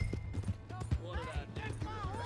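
Horse hooves clip-clopping at a walk in the video game Red Dead Redemption 2, rhythmic hoof falls heard under a voice.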